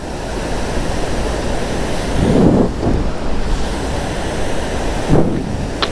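Water falling from above at the biggest waterfall in Mustang, a steady broadband roar with wind buffeting the microphone and a couple of brief louder surges.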